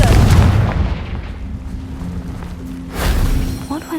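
The Confringo blasting spell from Hogwarts Legacy, a video game, goes off as a loud, booming explosion with a heavy rumbling tail and then a second burst, all close and dense.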